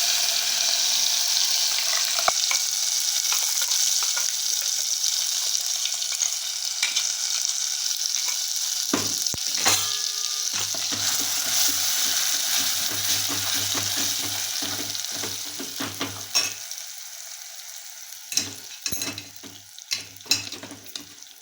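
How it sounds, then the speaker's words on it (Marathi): Green masala paste with asafoetida and curry leaves roasting in a pan, giving a steady loud sizzle throughout with frequent spatula scrapes and clinks, especially in the second half; no talking. "वाटण आपण हे भाजून घ्यायचं आहे."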